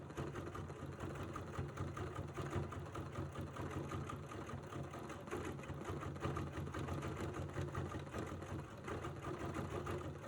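A sewing machine runs continuously, stitching down couched fibers, with a steady rapid mechanical whir and needle rattle at moderate volume and no talking.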